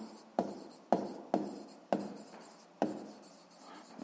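Pen or pencil scratches across paper during a sixth-grade math exercise, five short separate strokes spaced about half a second apart, close and crisp in a quiet room.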